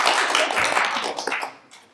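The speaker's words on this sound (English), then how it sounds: "Give her a round of applause" An outdoor community forum audience on Albert Island gives a short round of applause, dense nearby clapping that thins and tapers off within two seconds.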